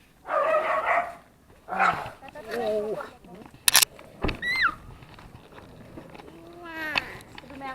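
Several meows and cat cries sound close by at a Thai cat house in Samut Songkhram, Thailand, mixed with voices talking and a sharp clatter partway through.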